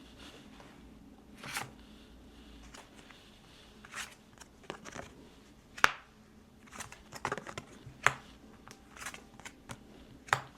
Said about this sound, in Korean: 카드 한 장 뽑겠습니다